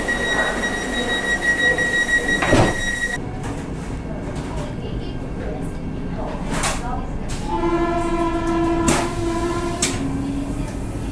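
Inside a Vande Bharat Express train arriving at Wankaner station: a steady rumbling cabin hum with sharp clunks, a squeal and tonal chime-like sounds, with faint voices in the background.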